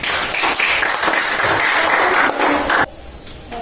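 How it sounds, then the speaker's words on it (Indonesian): A classroom of students applauds group 3 in a loud, dense burst of clapping close by, which drops off abruptly near the end, leaving a quieter room. "Kita berikan aplaus untuk kelompok 3."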